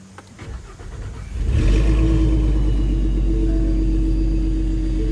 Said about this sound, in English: So what we're gonna do is fire it up again.